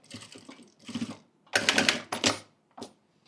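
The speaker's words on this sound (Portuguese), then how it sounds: "Eu gosto de dobrar aqui um pouquinho a peça e passar uma costurinha." Domestic sewing machine stitching fabric for a zippered school pencil case, three short close bursts of rapid mechanical whirring with gaps between, ending in a brief final run.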